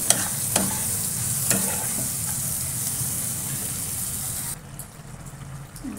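Bombay duck fish curry with turmeric, chili powder and salt sizzles and bubbles steadily in a pan, with a couple of sharp clinks from a utensil, close and continuous.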